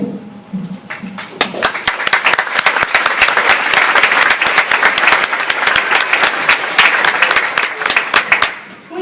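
Audience at a children's animal presentation breaks into loud, sustained applause, many hands clapping densely for several seconds before it thins out at the end.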